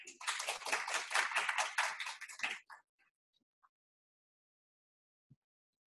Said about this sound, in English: please give your hand a round of applause to Dr.